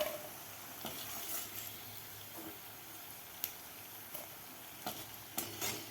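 Garlic frying in oil, a soft continuous sizzle with a few light clinks and scrapes of a utensil scattered through, fairly quiet and close.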